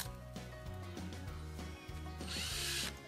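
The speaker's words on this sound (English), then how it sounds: "We're going to drill holes in the log approximately 4 inches apart." A power drill bores holes into a log for growing shiitake mushrooms, its steady motor whine shifting pitch as the bit bites, rising to a louder grinding burst near the end, close and alone.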